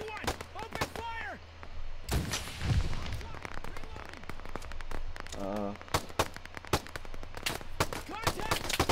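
Video game firefight in Operation Harsh Doorstop, with rapid gunshots and bursts of automatic fire cracking repeatedly throughout, loud and close, while voices shout over the shooting.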